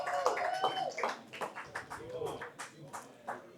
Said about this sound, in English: Round of applause for Michelle, guys.